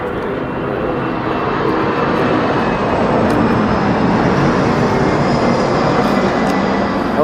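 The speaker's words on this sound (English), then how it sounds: "it depends which way the wind is blowing when those planes come in" Airplanes coming in to land near an airport make a steady, loud roar of jet engines that fills the whole stretch with a constant rushing drone.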